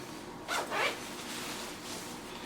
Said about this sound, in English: I'll zip that up there